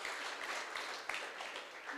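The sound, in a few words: applause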